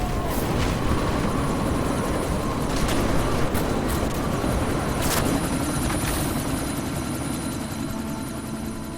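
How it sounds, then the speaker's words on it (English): A helicopter in the video game Deus Ex: Mankind Divided roars continuously with loud, dense rotor wash and engine noise during a sandstorm, steady throughout with a few sharp transient knocks. "this sandstorm might have just bought us some time, but you need to disable that chopper."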